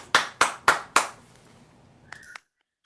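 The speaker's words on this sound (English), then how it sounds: "Maybe we should all unmute and clap for our new board of directors" Four evenly spaced, crisp claps from an online meeting participant, close and loud, followed by a short electronic chime, with no voices.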